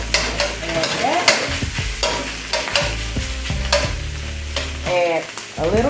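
Fried rice is stirred in hot oil in a pan, with loud continuous sizzling broken by repeated scraping and clattering spatula strokes; no talking.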